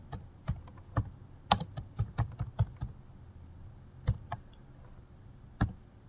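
Keys clack on a computer keyboard as a folder name is typed, a quick burst of crisp, close taps followed by a pause and a few scattered strokes, with no talking.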